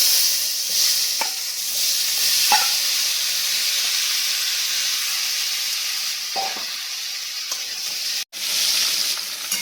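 Boiled elephant foot yam frying in hot oil in a home kitchen, a steady loud sizzle and hiss with a few scraping stirs of the spoon, and no talking.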